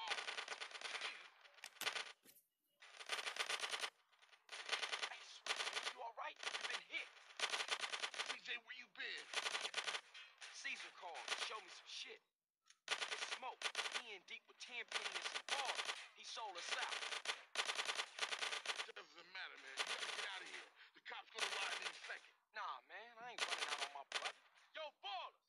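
Rapid bursts of automatic gunfire in GTA San Andreas on PS2, dense loud volleys crackling almost nonstop across the whole stretch with a few short gaps between salvos, with occasional voices faint underneath.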